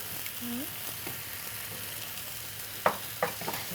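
Cumin paste fries in a pan for a pomfret green curry, a soft steady sizzle with a couple of stirring scrapes near the end.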